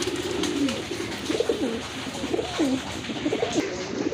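Sirazi and Bombay pigeons cooing nearby, a run of repeated rolling coos rising and falling steadily over several seconds.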